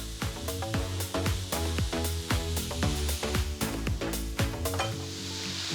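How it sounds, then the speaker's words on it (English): Egg scrambled in a hot wok, a steady sizzle of frying with repeated sharp scrapes and taps of a utensil against the metal, close and fairly loud throughout. "I'm cooking and scrambling this egg in the centre"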